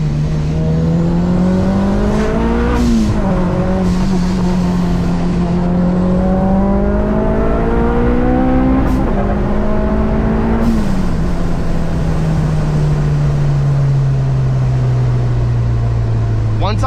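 A 400whp Kraftwerks supercharged Honda Civic Si drives at full throttle, its engine droning loudly and rising in pitch through the gears with shifts between, heard from inside the car with a voice talking over it.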